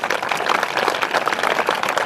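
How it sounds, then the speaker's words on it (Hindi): A school crowd gives student Shagun a round of applause, with dense, steady clapping from many hands and no talk over it. "मैं कहूँगा सगुन के लिए एक बार जोरदार तालियां बजा दी जाए"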